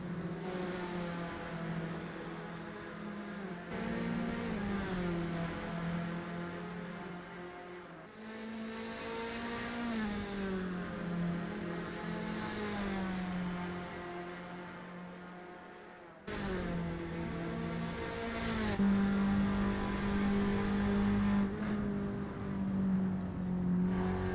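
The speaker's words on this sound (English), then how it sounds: "he's now closing the gap very fast to the blue car of Perkins ahead." Race cars racing at the Bathurst circuit in a simulated PWC race, engines whining and revving continuously with rising and falling pitch as gears change, one car close and loud throughout.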